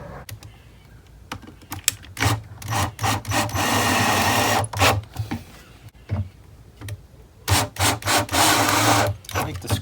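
A power screwdriver drives screws into a particle board speaker box during an old speaker rebuild, its motor whirring in repeated short bursts and longer runs, close and loud, with clicks and handling knocks between.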